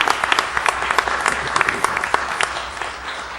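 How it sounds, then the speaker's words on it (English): Audience applause closing out a high school speech contest at a public meeting, a steady wash of many hands clapping with a few sharper individual claps standing out, fairly close and unbroken throughout. "Give yourselves a round of applause for doing that."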